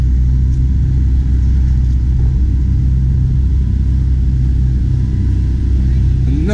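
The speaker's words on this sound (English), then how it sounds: "another 675 LT is pulling in." A steady low engine rumble from a McLaren 675LT supercar pulling in at a car meet, continuous and fairly close with no sharp revs, while people talk nearby.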